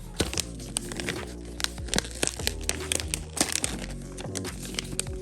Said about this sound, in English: Easy rip open package.